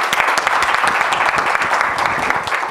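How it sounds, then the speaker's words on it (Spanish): An audience at a lecture on Alzheimer's disease gives a round of applause for the speaker, a loud, close, continuous patter of many hands with sharp individual claps standing out, steady for the whole span. "De nuevo un aplauso para él."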